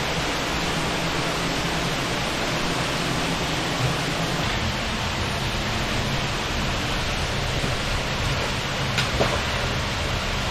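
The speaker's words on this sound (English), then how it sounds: "This is the famous waterfall room" A waterfall in a canyon room in Subway Canyon, Zion National Park, roars as a constant, dense wash of rushing water that fills the space evenly and loudly throughout, with no other sounds standing out.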